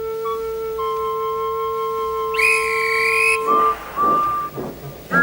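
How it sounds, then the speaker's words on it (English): A guard's whistle sounds at a train station, a long steady shrill blast that cuts off near the midpoint and gives way to bustling movement and clatter, with faint music tones running underneath. "Thomas heard the guard's whistle"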